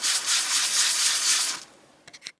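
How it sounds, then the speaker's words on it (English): A mini sander with 400 grit paper lightly sands porch floor boards, giving a steady close hiss for about a second and a half, then stopping, with a few short taps at the end. "So I'm just going to do a little light sanding with the 400."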